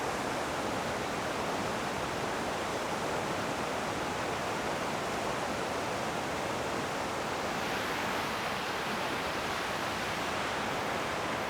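A waterfall rushes in foggy conditions, a steady, loud, broadband roar of falling water that holds constant and unbroken throughout, with no voices.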